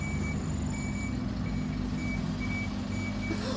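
Lorry reversing in Ryde, its steady reversing beeps repeating at an even rhythm over a continuous diesel engine rumble, fairly close and loud with no voices.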